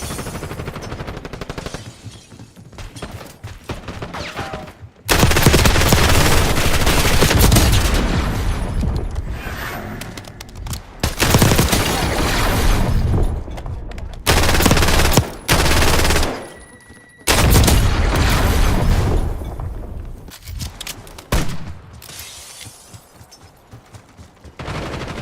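Sustained bursts of automatic gunfire and blasts from guns in GTA, loud and dense, in long stretches broken by brief lulls.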